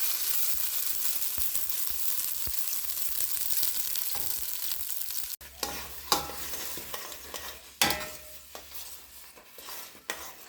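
Kale paste sizzles and fries in ghee in a pan while being stirred, a steady hiss with scraping stirring strokes and a few sharp utensil knocks in the later half, no voices.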